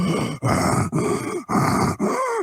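A voice imitates labored, scratchy, almost bestial breathing: four long rasping groans in a slow steady rhythm, each separated by a brief pause, close and loud with no other sound.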